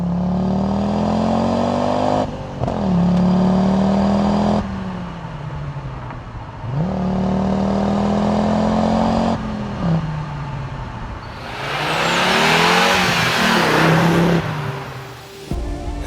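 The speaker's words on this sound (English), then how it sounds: "The 5-cylinder really made a unique sound where you hardly needed to turn your radio on." A 1982 Audi UrQuattro with a turbocharged 10-valve five-cylinder engine accelerates through several gears, its rising tone broken by shift pauses, then a loud rushing pass with a burst of turbo and wind noise.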